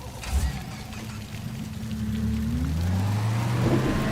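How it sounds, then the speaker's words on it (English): Rocket boat engine starting in a farming game, a brief thump followed by a steady motor drone that rises in pitch and grows louder as it revs up, over a watery hiss. "Start the engine"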